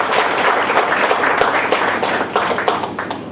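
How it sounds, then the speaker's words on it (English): An audience claps to welcome a speaker at a book launch, a brief burst of dense, close applause with sharp individual claps that tapers slightly toward the end. "Kindly welcome him with a round of applause."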